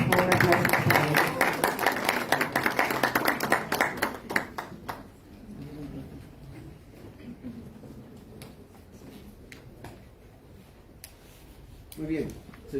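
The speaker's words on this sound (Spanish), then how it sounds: "Por favor, aplausos para ella." An audience at an oratory contest at the Superior Court of Justice in Cusco claps in a dense burst for several seconds, then the applause fades into quiet room sound with a brief stir near the end.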